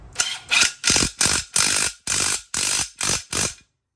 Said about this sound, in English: these blades need to go up to about a 34 Newton meters in tightness, which my torque wrench does